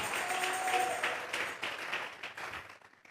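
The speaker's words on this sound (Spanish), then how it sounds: "Vamos a regalarle ofrenda de palmas al Dios de la gloria" Congregation clapping together during a church service, a steady dense wash of palms that holds for a few seconds and then thins out toward the end.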